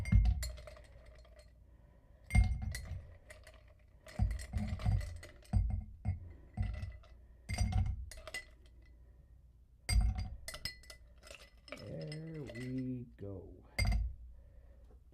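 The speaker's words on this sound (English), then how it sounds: "So I have to use my spoon as my stir stick." A metal spoon stirring ice cubes in a glass for a mocktail, bursts of sharp clinks and rattles in irregular clusters, close by, with a person talking between and over them.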